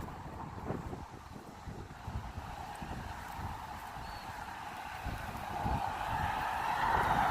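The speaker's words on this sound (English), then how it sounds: "And it's real windy" Steady wind buffets the microphone with a low, rumbling roar that grows slightly louder toward the end.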